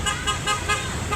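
Car horns toot repeatedly in a steady rhythm on EDSA in Manila during a roadside gathering, several short honks close together over low traffic rumble.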